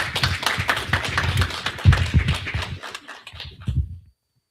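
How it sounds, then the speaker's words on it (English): An audience at a temple gathering applauds a minister, several seconds of close, brisk clapping with some heavier individual claps, fading out abruptly at the end. "Let's give our dear brother minister a well-deserved round of applause."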